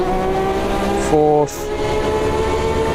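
A Porsche GTE race car engine in Automobilista 2 roars loud and steady with a dense, high-revving harmonic whine, shifting pitch once midway as it changes gear, while a voice briefly speaks over it.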